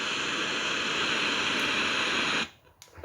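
Steady FM radio static from a T&G TG123 Bluetooth portable wireless speaker, a dense, even hiss that holds for over two seconds before dropping away suddenly.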